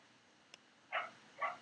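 Dogs barking outside, two short, clear barks spaced about half a second apart, heard at moderate distance with a faint tick just before and no talking.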